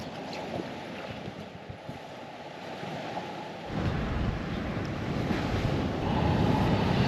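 Waves at Olinda beach, a steady rushing surf wash mixed with blustery wind buffeting the microphone, growing fuller and louder in the latter half, with no voices.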